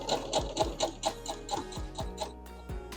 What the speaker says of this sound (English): And now you are sewing.